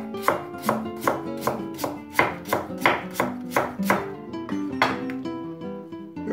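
A knife cuts potatoes into thin slices on a board in a home kitchen, giving a quick, regular run of sharp chops up close that slows and spaces out toward the end.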